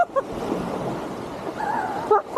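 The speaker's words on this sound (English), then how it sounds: "I think because the tide's coming in as well." Surf washes steadily onto the shore at Lands End as the tide comes in, a continuous close roar of breaking water with some wind.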